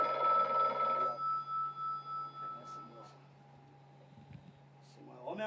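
A telephone rings briefly at the start, a loud bell burst that then decays in pulsing echoes, followed by quiet and then people talking.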